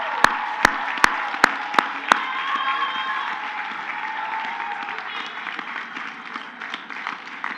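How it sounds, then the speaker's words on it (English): A commencement audience at the Colin Powell School graduation applauds the graduates, a few sharp isolated claps ringing out first before dense, sustained clapping fills the hall steadily to the end. "let's give them a big round of applause"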